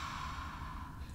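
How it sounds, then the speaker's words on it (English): A single slow ujjayi exhale through a slightly constricted throat during a yoga session, a soft, steady oceanic hiss held close to the mic for the whole moment. "there's a slight constriction at the back of the throat to get that sound, that ujjayi breath"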